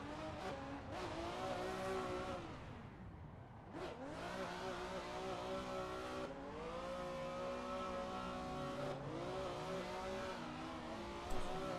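A car engine in the racing game Assetto Corsa revs and drones steadily, rising and falling in pitch through gear changes, with brief dips between pulls and a faint squeal near the end.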